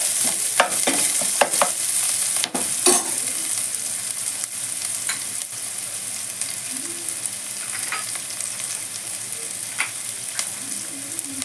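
Two onions fry in a pan for brinjal dum biryani with a steady, close sizzle, broken by a few clinks and scrapes of stirring. No voices are heard.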